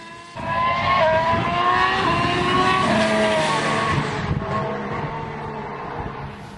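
Formula 1 cars at preseason testing at the Jerez circuit, climbing a hill before dropping onto the back straight; a loud engine whine rises sharply as a car passes close, then fades as it pulls away.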